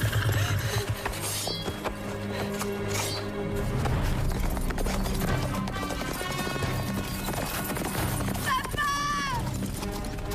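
Horse hooves clip-clop steadily in a medieval fantasy setting, mixed under background music and talk, with a horse whinny near the end.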